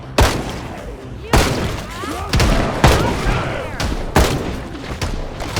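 Gunshots in the video game Project Zomboid: five loud, sharp reports fire at irregular intervals, each followed by a booming echo, with faint voices underneath.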